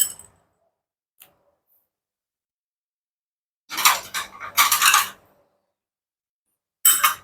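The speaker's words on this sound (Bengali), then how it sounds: "এখন গিয়ে এটাকে আমি এখন ঢাকনা দিয়ে ঢেকে দিব" A lid is set onto a bowl of homemade skin care mixture: a faint click, then a few short bursts of handling clatter and tapping, separated by silence.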